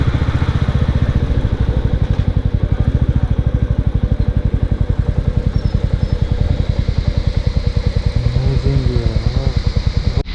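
Motorcycles ride a cloudy mountain road from Siliguri toward Darjeeling, their engines a close, steady, throbbing drone with a slight rise and fall throughout, and a brief faint voice near the end.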